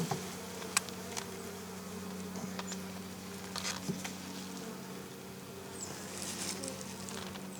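Honeybees buzz in an open hive during a spring inspection, a quiet steady hum close by with scattered wingbeat flickers and faint tapping from frames being handled.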